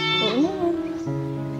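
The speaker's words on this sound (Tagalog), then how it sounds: "Yung kambing." Loud, close bleating from a goat, one wavering cry that slides in pitch and then settles into a sustained nasal tone, with nothing else audible.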